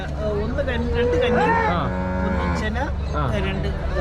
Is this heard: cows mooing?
yes